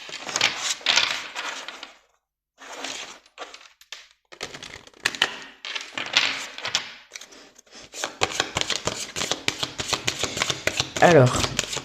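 Oracle cards are shuffled by hand in close, crisp riffling bursts with short gaps, ending in a denser run of rapid flicking; a voice speaks French softly at times.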